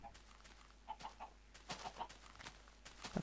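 Faint chicken clucks from a Minecraft game, several short soft calls scattered across a quiet background with no voices.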